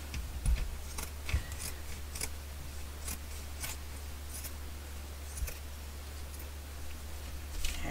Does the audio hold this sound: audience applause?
no